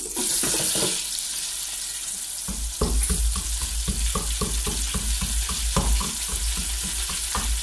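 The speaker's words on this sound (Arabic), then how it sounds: "هقلب شويه بقى الايه، اشوف البتنجان كده اديله تقليبه هزه كده علشان خاطر اللي تحت يطلع فوق واللي فوق يطلع تحت، يتحمر" Eggplant frying in hot oil, sizzling steadily as the pan is stirred and shaken with repeated rhythmic scrapes and clatters, loud and close without talk.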